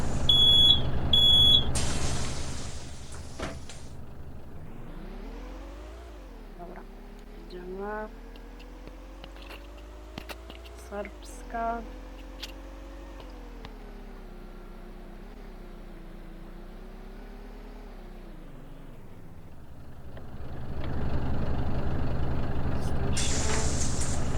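A city bus on route 185 starts up: a low engine drone rises and shifts pitch as it gets going, with short warning beeps and loud hissing air-brake releases at the start and end, all close by.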